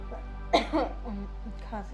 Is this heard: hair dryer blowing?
no